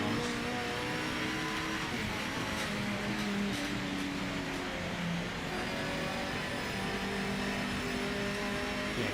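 An LMP prototype race car in a racing video game holds a dense, steady engine drone from start to finish, with shifting pitch and tyre noise and no talking over it.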